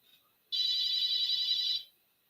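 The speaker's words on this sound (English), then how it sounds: "the phone's ringing" A single electronic phone ringtone trill sounds steadily for about a second and a half, moderately loud and close, with nothing else around it.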